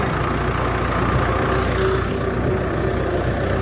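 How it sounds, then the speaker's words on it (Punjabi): A large tractor engine runs steadily nearby while being driven to the field, a dense, constant low rumble with no talk over it. "ਆਪਾਂ ਹੁਣ ਚਲਾ ਰਹੇ ਆ ਟਰੈਕਟਰ ਵੱਡਾ"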